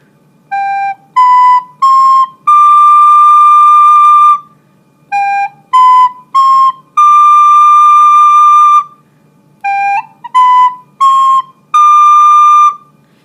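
A recorder plays the opening phrases of When the Saints Go Marching In, clear whistly notes in short groups with a held final tone, the phrase repeated three times with brief pauses between.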